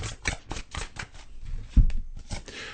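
Tarot cards handled and drawn from a deck: a quick run of close, crisp riffling and flicking card sounds with a short sharp snap near the end, no talking.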